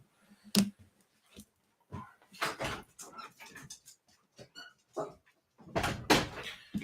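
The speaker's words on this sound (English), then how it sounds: "I'm going to open a door here quickly and let him out" Door being opened indoors to let a dog out, with sharp knocks, clatters and handling noises in scattered bursts, close to the microphone.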